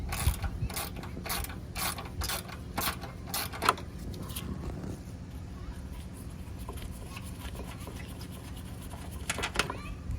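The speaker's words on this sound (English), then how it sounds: "We're gonna remove the headlight mounting bolt." Ratchet wrench clicking in a quick series of strokes while removing a headlight mounting bolt on a 2022 Subaru WRX, close and fairly quiet, then a stretch of low workshop hum with a few more clicks near the end.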